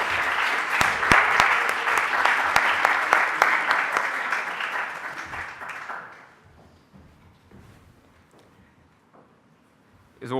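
An audience at a charity fundraiser event applauds a speaker, Radhanath Swami, with loud sustained clapping for about six seconds that then fades to near quiet, with a brief sound at the end.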